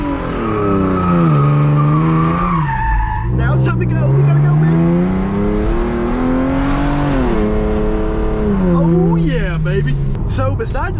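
A 370-horsepower 3.8-litre Genesis Coupe in sport mode with stability control off is floored with the wheel turned fully, tires squealing loudly over a roaring, rising and falling engine while someone talks over it.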